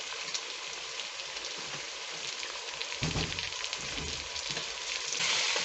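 Potatoes sautéing in a hot pan, a steady loud sizzle and crackle of frying that runs throughout with a brief stir or splash partway, no voices.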